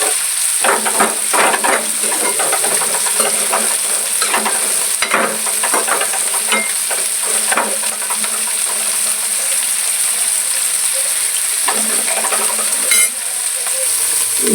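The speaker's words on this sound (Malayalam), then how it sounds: "ഉപ്പേരി ഒന്ന് ഇളക്കി കൊടുക്കാം." Upperi, a stir-fry, frying in hot coconut oil and being stirred in the pan: a steady, loud sizzle runs throughout while a spatula scrapes and clacks in irregular bursts.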